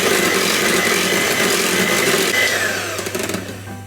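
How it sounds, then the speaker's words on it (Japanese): An electric mixer whips fresh cream in a bowl during cake making, giving a close, continuous whirring buzz that weakens and roughens toward the end as the motor winds down. No one speaks. "でこれは最後まで泡立てていきます。"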